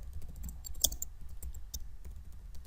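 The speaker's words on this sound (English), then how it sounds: "I will type the question" Computer keyboard keys clicked in a steady run of quick, light taps while entering a quiz question, close and fairly quiet over a low hum, with no talking.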